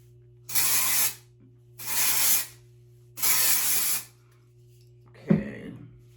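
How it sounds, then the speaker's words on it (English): Three long hissing bursts of Batiste Original Dry Shampoo sprayed onto a wine-red wavy bob wig, each about half a second apart, fairly close, followed by a brief soft knock. "let's spray her with, this is the Batiste Original Dry Shampoo"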